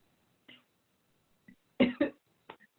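A few short, dry coughs, quiet and close, in quick bursts with a brief double cough in the middle.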